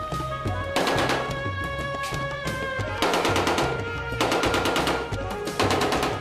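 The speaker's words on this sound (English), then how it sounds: "No one bats an eyelid here as gunfire racks the streets." Bursts of rapid machine gun fire rattle out repeatedly, loud and sharp, with short pauses between volleys and a steady tone underneath.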